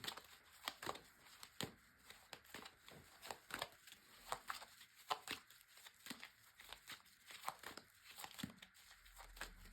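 Tarot cards being shuffled by hand for a monthly reading, giving a run of quick, crisp riffling and flicking bursts at close range, with short pauses in between and no talking.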